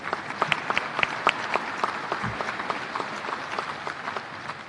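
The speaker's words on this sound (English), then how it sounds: "let's just give them a round of applause also" Applause at a university athletic conference press event, an audience clapping steadily and fairly near for several seconds with scattered sharp claps standing out and no talk.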